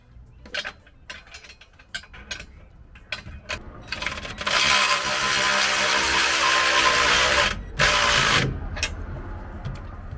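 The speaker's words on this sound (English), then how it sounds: "now I'm about to bust out this electric wrench." Electric impact wrench on skid plate bolts, a few short clicks and taps, then a long loud ratcheting whir for several seconds, a brief pause, and another burst.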